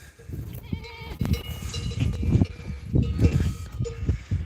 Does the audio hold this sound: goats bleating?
yes